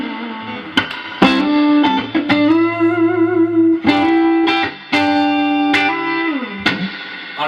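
Electric guitar played through an amp's gain channel with low gain drive and a little reverb, a series of struck chords and sustained notes, some bending, with lightly distorted harmonics ringing alone.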